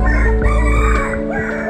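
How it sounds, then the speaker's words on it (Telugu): Chickens at Bannerghatta zoo near Bangalore crow and cluck loudly and close by, with overlapping calls over a steady outdoor background. "కోళ్ళు"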